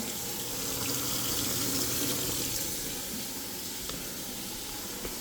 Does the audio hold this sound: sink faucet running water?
yes